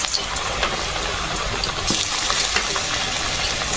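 Rice-flour biscuits fry in hot oil in a wok, a steady, close crackling sizzle with small popping bursts that holds for the whole stretch, no one talking.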